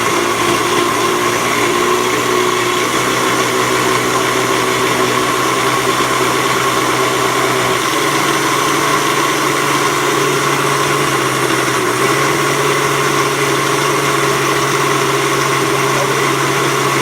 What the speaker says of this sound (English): It's a very old blender, if you can see the style, but it works good still